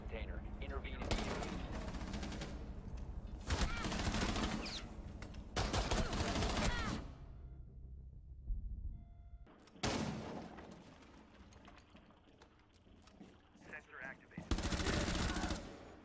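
Sustained bursts of automatic gunfire from Rainbow Six Siege, loud and close, come in several heavy volleys separated by brief quieter gaps with game sounds.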